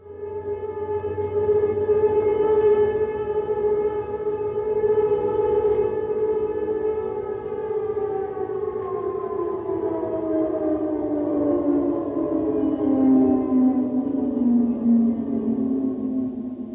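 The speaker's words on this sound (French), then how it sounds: "il y avait la sirène qui avait été installée sur le toit de l'école" A WWII air raid siren mounted on a school roof wails loud and sustained, its long tone holding steady before slowly sliding down in pitch toward the end, with no voices.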